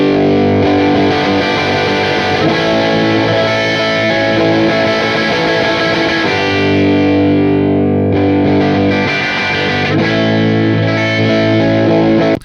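An electric guitar plays through a UAD Marshall amp plugin, heavily distorted and loud, with thick sustained chords that ring continuously and briefly thin out before building again, with no voices.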